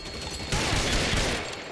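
A burst of gunfire in the video game L.A. Noire, one loud close blast that rings out and then slowly fades, heard alone without speech.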